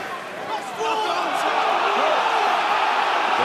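A rugby home crowd at Northampton Saints against Scarlets voices disapproval, a dense, steady roar of many voices with rising and falling jeers and whistles that swells and holds loud throughout.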